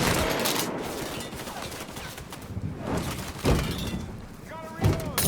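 Gunfire in Mafia III, dense rapid automatic shots and scattered louder cracks close by, continuous through the clip, with a loud impact near the end and voices shouting underneath.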